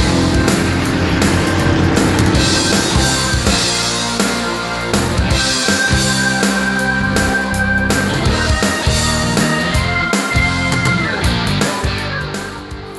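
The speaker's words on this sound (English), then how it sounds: "Notice the car accelerating and still getting a wrinkle out of the tire." A car launching hard on DOT drag radial tires during a drag tire test, its engine roaring loud and sustained through a gear change, a steady high-revving blast that holds nearly throughout.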